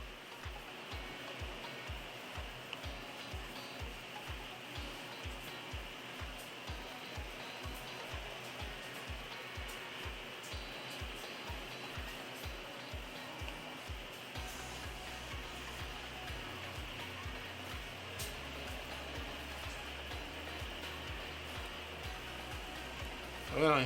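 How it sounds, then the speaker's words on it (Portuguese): Hot air station blowing steadily to desolder an IC on an Electrolux washing machine control board, a constant airy hiss with a low pulsing rhythm underneath throughout, faint and even. "Agora vamos dessoldar o CI."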